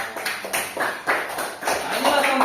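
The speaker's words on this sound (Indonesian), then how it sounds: "tepuk tangan dulu untuk Sahira" A classroom of students claps for a classmate, a short burst of scattered, overlapping applause over about two seconds with a teacher's voice on top.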